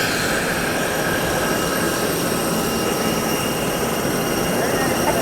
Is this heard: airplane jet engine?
yes